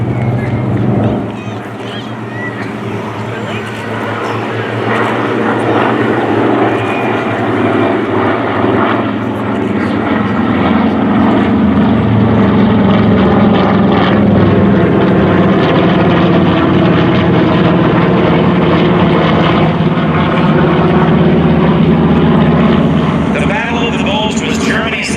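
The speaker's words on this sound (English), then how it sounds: "TBM Avengers and the Curtis Helldiver, nicknamed the Big-Tailed Beast." WWII propeller warplanes, TBM Avengers and Curtiss Helldivers, pass overhead in a flyover, their engine drone building steadily and holding loud and sustained throughout.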